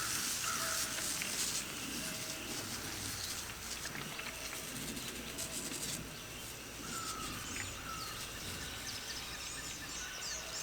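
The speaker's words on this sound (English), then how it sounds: "let's get this thing sprayed with this copper fungicide" A half-gallon hand sprayer mists copper fungicide onto fruit trees in an orchard, giving a soft, continuous hiss while birds chirp faintly in the background.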